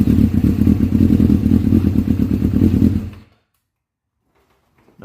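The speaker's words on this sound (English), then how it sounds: "We're going to try to start this motorcycle that's been sitting in a garage for 10 years" Kawasaki Ninja motorcycle engine, started after sitting in a garage for ten years, runs loud and close with a rapid, slightly uneven clattering idle for about three seconds, then cuts off into near silence.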